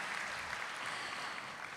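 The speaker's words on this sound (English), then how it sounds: "Please give a round of applause." At the opening ceremony of the Conference on Indonesian Foreign Policy 2025, the audience gives a brief, faint round of applause for the ambassadors, a soft continuous wash of clapping heard from a distance.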